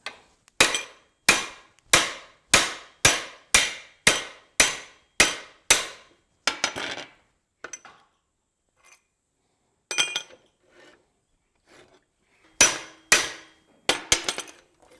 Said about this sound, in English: you can actually shear the rivets by hitting the sickle sideways